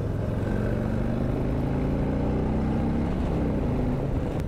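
A steady engine drone with harmonic hum holds throughout, constant and close, like a motorcycle cruising along at even speed with wind noise; a 2021 Harley-Davidson Street Glide Special on curving back roads.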